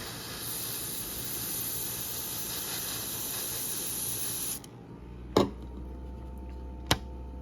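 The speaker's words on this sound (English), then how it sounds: "and spray in black" A steady hiss of black spray paint through a stencil runs for several seconds, then cuts off, followed by two sharp clicks in the quiet.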